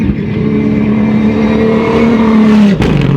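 Dakar rally cars in Saudi Arabia speeding past, a loud close engine roar holding a rising whine before dropping sharply in pitch as one car passes.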